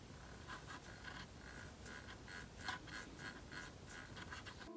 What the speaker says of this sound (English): Speaking of the volume potentiometer, I'll let you guys listen to it. It makes a little clicky sound.